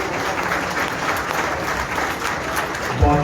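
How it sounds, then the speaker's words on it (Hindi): A crowd at a gathering in Karachi applauds steadily, a dense even roar of clapping from many people that carries on without pause, with a faint bump of other sound at the very end. "आप लोगों की तालियां बताएंगी कि क्या आप लोग हमारे साथ हैं"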